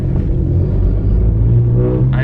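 A lowered 2018 Honda Accord on Eibach springs rolls over a speed bump, its exhaust a steady low rumble heard from inside the car, loud and continuous with a slight rise near the end.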